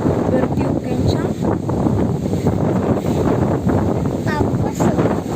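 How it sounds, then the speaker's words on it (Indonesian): Strong wind blows across a boat at sea off the Tukang Besi islands near Binongko, a loud, steady roaring buffet against the microphone, with people talking over it. "Semua angin dah bertiup kencang."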